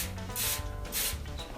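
Two bursts of cooking spray hiss from a can, coating a sheet cake pan; the sprays are close and short, with a brief pause between them.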